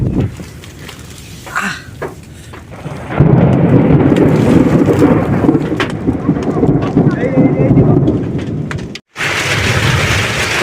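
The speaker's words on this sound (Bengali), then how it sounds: "বৃষ্টি নামলো অবশেষে, ঘরে যাই।" Steady heavy rain with a deep rumble of thunder, loud and close, briefly cutting out near the end; birds call faintly and a voice speaks.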